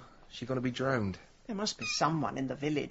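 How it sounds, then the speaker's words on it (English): A young runt kitten meows repeatedly in short, rising cries, close and clear, interleaved with a voice speaking over and between the calls. "That's a cat."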